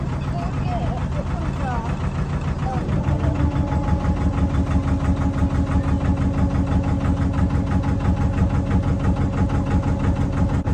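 A narrowboat engine chugs in forward gear on a canal trip toward London, a steady, close, throbbing rumble with a faint pulse that firms up partway through. A voice speaks briefly near the start.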